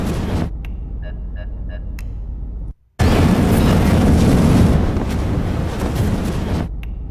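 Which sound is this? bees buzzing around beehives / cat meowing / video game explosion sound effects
video game explosion sound effects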